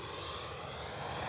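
An FMS Avanti S radio-controlled jet with a 90mm electric ducted fan roars steadily on its takeoff run, a constant high-pitched whine with no voices over it.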